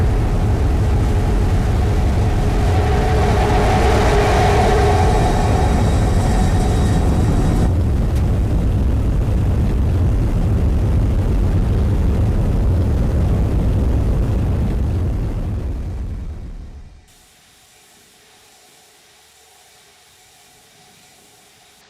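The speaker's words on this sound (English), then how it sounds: "have ignition. Starship heading back to the landing zone." Simulated Starship rocket engine roaring through a landing burn in the game Simple Rocket 2, a loud continuous broadband rumble that holds steady, then fades and cuts off to near silence as the craft touches down.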